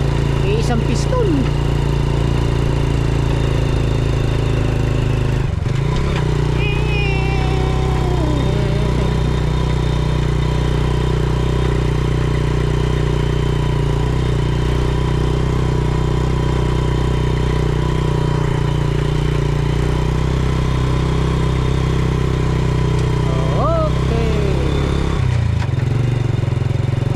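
A small single-piston truck engine with a 100 cc motor runs steadily and loudly, giving a continuous low throbbing drone on a road in a remote Philippine countryside village, with a brief dip partway through.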